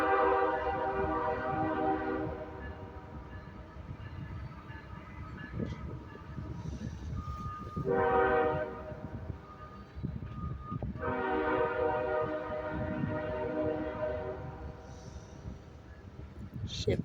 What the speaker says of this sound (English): there she is, the Union Pacific train.